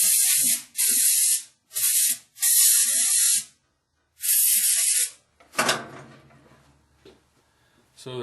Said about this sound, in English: And then I take my air hose and blow all of it off.